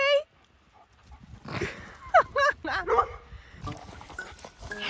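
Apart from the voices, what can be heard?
dog whimpering and barking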